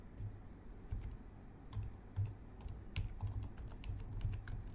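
Keys tapped on a computer keyboard in short, irregular clusters of soft clicks over a low background hum, close by and quiet, without talking.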